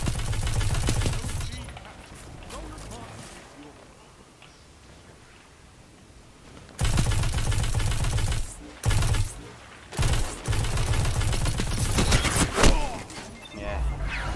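Gunfire in the video game Destiny 2, bursts of rapid loud shots and heavy impacts that cut off into quiet stretches, then resume in several dense volleys; a player talks in between.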